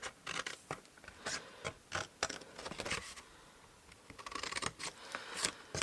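Scissors cutting through cardstock for a wax melt holder, a series of close, crisp snips and scraping slices, irregularly spaced with short pauses.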